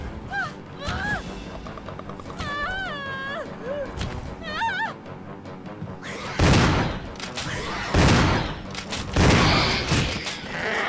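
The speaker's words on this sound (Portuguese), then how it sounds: "Três tiros, matei o Hunter e salvamos a Rebecca." High, wavering creature-like cries from a Hunter monster in Resident Evil HD Remaster give way to three loud, booming shotgun blasts spaced a second or so apart, each with a short ringing tail.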